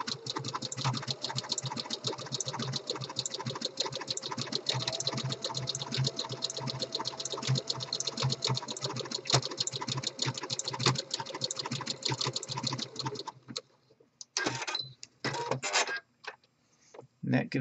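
A home sewing machine stitches a decorative stretch seam on fleece fabric, a fast, steady mechanical whir and clatter running continuously, then stopping and restarting in short bursts near the end.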